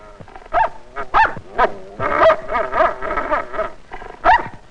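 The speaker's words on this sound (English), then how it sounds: "at whose approach the shepherd's dog barked fiercely" A dog barks and yelps in a quick series of loud, close calls, some rising into whiny yips, with no one talking.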